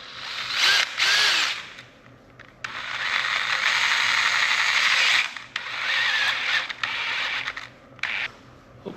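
A power drill whirs in bursts while driving screws into the old front main seal of a 1936 tractor engine, with loud high-pitched spins, a short ratcheting clutch chatter, and brief pauses between runs, close up with no talking.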